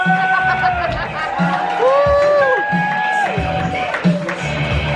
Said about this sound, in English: Start some clapping. Start some cheering. Start some whooping.